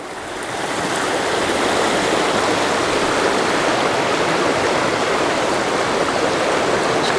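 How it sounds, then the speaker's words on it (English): A waterfall spills into a rocky backcountry brook near Tangier Grand Lake, a steady, loud, full-band rush of falling water that holds constant from start to finish with no voices. "There's quite a waterfall up there."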